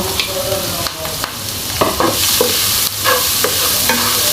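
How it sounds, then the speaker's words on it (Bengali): Chopped onions frying in oil with cumin seeds, a loud close sizzle broken by repeated spatula scrapes and stirring knocks against the pan. "পেঁয়াজ কুচি দিয়ে দিলাম এখন পেঁয়াজটাকেও একটু বেজে নিব"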